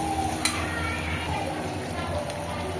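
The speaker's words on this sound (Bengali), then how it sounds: "মশলাটা একটু কষে নেব।" Spice paste of chili and cumin powder fries in a pan for cauliflower Manchurian, giving a steady, even sizzle that stays close and constant throughout.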